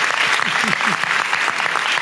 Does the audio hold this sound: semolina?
no